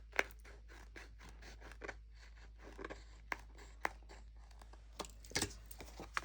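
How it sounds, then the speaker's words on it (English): Scissors trim excess acetate sheet in a quiet room with a string of short, soft snips and scratchy cuts, spaced irregularly, with no talking. "let me just trim off that extra acetate"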